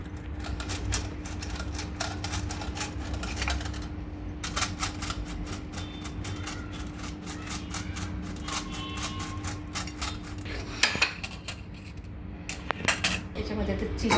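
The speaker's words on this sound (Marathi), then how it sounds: "त्यामध्ये आपल्याला हे चीज किसून टाकायचं आहे" Cheese grated into a corn cutlet mixture, with a fast run of light metallic scraping and clinking from grater and bowl that goes on throughout, close by, over a faint low hum.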